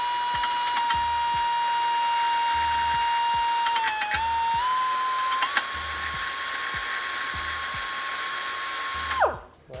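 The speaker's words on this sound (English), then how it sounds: "Die grinder." Die grinder at work on the rear toe bolt of a 2023-or-later Nissan Z: a steady, loud high-pitched whine held for about nine seconds, dipping briefly partway through, then spinning down abruptly at the end.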